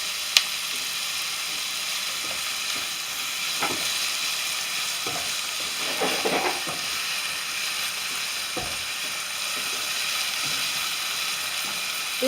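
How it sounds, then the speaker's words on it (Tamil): Spicy chicken gravy fries in a pan, a steady close sizzle broken by scraping, clinking stirs of the spoon against the metal, with no voices. "இது வந்து போட்டு கொஞ்சம் கிண்டுங்க."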